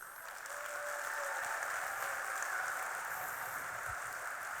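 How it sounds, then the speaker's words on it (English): Conference audience in Dubai clapping together, a dense, steady wash of many hands that swells in and holds loud and even, like heavy rain, with no talk over it. "now is the time for you to clap and welcome me like you mean"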